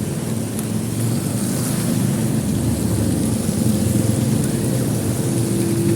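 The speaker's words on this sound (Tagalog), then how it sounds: "Lakas ng ulan." Heavy rain pours steadily, with a deep low rumble beneath it like distant thunder; no voices are heard.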